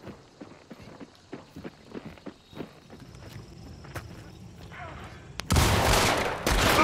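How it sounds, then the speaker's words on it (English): Shotgun blasts and gunfire in the video game Hunt: Showdown, with a run of sharp close shots and footsteps followed by a loud, sustained burst of noise near the end. "Shotgun."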